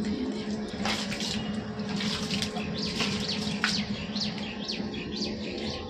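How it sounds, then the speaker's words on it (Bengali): Tap water runs steadily while a window is washed, a continuous close hiss with birds chirping and tweeting over it throughout. "চলো জানলাটা একটু ধুয়ে দিই।"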